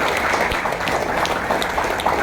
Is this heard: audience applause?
yes